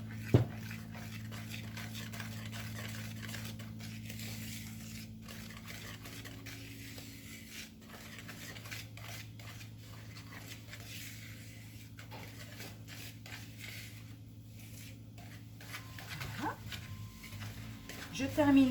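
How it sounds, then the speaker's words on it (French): Egg yolks and flour being mixed by hand for small chocolate nougat cakes, a soft steady scraping and stirring in a bowl, faint and continuous beneath a low kitchen hum, with someone talking over it. "Je termine de mélanger"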